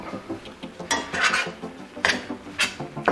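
Spoon stirring chopped white onion through chili in a pot, a series of close scraping clinks and clatters in irregular bursts, no talking.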